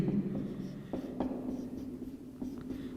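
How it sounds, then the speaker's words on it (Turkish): A greater-than sign being written on a classroom board during a maths lesson, a few short scratching strokes over a faint background hum. "Büyüğün işareti yazacağım."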